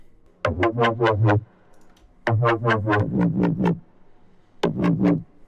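A synthesized mid-growl bass fill plays rhythmic bursts, gritty pulsing notes in three phrases separated by short silences, with wobbling modulated tone.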